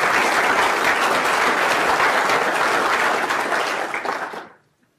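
Loud, dense audience applause at an agricultural talk on silage evaluation, steady clapping filling the room before cutting off sharply near the end.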